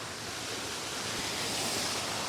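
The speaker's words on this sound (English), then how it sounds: "The waterfalls are extremely loud." Loud waterfalls roar as a dense, constant wash of rushing water, filling the whole clip without letup.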